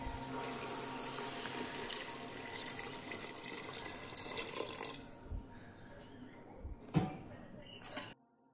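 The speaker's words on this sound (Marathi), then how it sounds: "त्याच्या दुप्पट आपण पाणी टाकणार आहोत, म्हणजे 4 वाटी असं पाणी आपण टाकणार आहोत।" Water is poured steadily into soaked rice in a pot for a soybean vegetable pulao, a continuous close splashing rush that stops partway, followed by quieter kitchen knocks.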